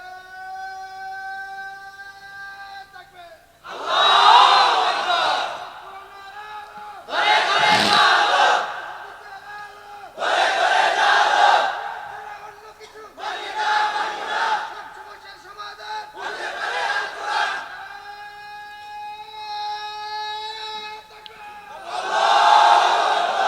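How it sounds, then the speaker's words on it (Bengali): At a religious gathering, a large crowd chants a slogan in loud, rhythmic bursts, roughly every three seconds, answering a single amplified lead voice over a sustained tonal background. "এরকম স্লোগান দেখি তো, দেন তো একজনে"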